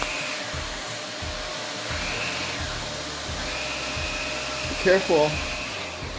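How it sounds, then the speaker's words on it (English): A vacuum cleaner runs across a household floor with a steady, close whooshing drone throughout, while a voice speaks one short word and a child's brief high vocal sounds rise near the end. "now we've got you vacuuming the floor"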